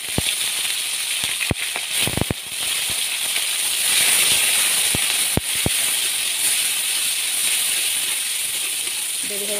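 Onion frying in oil with bay leaf and dried red chilli in a kadai wok gives a steady, close sizzling hiss, with a few sharp clicks and taps near the start.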